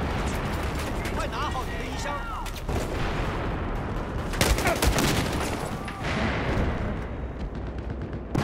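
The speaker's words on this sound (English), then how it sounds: "Grenade!" Battlefield 4 combat with dense, continuous gunfire and bursts, punctuated by a heavy grenade blast near the middle, loud and chaotic throughout with players talking over it.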